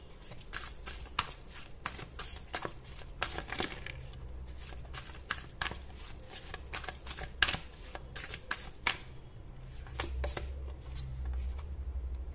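Tarot cards are shuffled by hand up close, producing a continuous run of soft riffling, flicking and slapping bursts at an uneven rhythm, with no talking.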